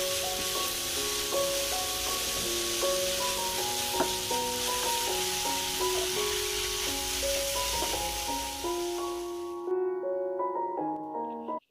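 Raw papaya with a pinch of salt sautés in a pan with a continuous, bright sizzle over a steady musical backdrop, and the sizzle cuts out near the end.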